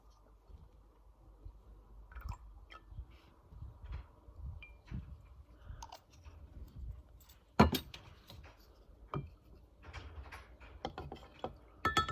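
A ruler stirs and clinks inside a glass of water, giving a soft, uneven run of small taps and scrapes with a few sharper knocks against the glass, close and fairly quiet, with no talking.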